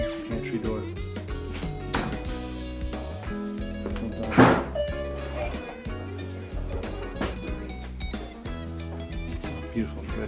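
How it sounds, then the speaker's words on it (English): A pantry door in a clean, well-finished kitchen gives a single sharp thunk partway through, set against continuous background music. "Pantry door."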